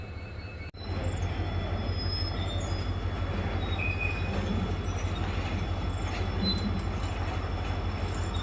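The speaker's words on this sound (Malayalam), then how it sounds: "ഈ ഗുഡ്സ് ട്രെയിൻ മുന്നോട്ട് പോകുന്നു" A goods train carrying railway track sections rolls along the line during track work, a loud, steady rumble of wagons with high metallic wheel squeals running continuously after a brief drop at the start.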